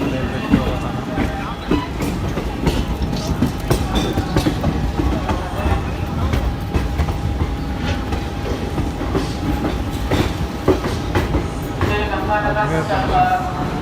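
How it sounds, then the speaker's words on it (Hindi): A passenger express train pulling into a railway platform, close rolling rumble and clickety-clack of wheels with faint squeals and a steady tonal whine, under station and passenger chatter. "प्लेटफॉर्म नंबर 1 पे हमारी ट्रेन आई है"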